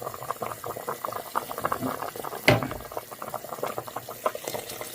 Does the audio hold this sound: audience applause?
no